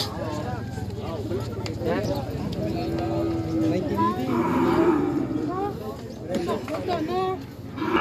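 Water buffalo and other livestock at a busy animal market in Magallon, with low moos and animal calls amid hoof clatter, under steady crowd chatter and nearby talk.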